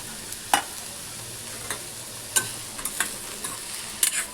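Mushrooms and onion sautéing in a pan for white sauce pasta, a soft steady sizzle broken by a few sharp clinks and scrapes of a spatula against the pan.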